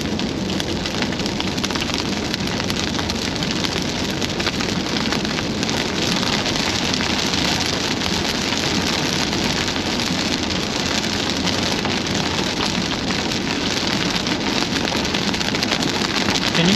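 Heavy rain from a supercell thunderstorm near Burns, Wyoming, drums in a dense, unbroken roar that stays loud and even from start to finish, with no talking.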